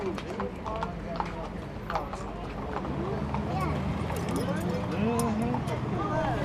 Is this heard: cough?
no